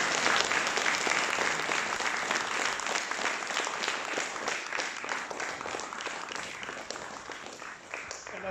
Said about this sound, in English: Can we have one last round of applause for Elliot?